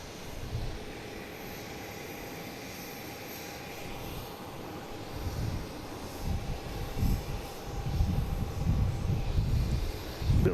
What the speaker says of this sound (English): next coming in, we have a Delta coming in from Columbus, an E175